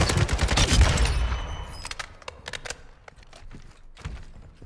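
Rapid bursts of automatic gunfire crackle in a Call of Duty: Modern Warfare II Resurgence match, a dense loud fusillade at first, then scattered shots and thuds trailing off, alone without talk.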